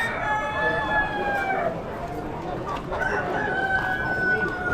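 Hens at an Amish animal auction cluck and squawk in drawn-out calls over a dense, noisy background of crowd chatter and auction hubbub.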